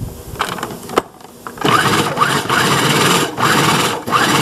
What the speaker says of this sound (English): Just going to pulse up the onions now.